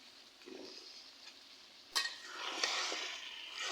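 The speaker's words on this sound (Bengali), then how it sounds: "এখন আমি তরকারি ভালোভাবে কষিয়ে নেব।" Bottle gourd and prawn curry is stir-fried in a pan, a faint soft sizzle swelling into louder scraping and hissing after a sharp clink.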